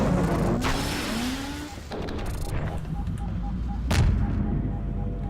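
An explosion booms in Half-Life 2: Aftermath after a rocket launcher is fired, with a sharp blast near the end of a stretch of mechanical game noise and a whirring pitch sweep early on.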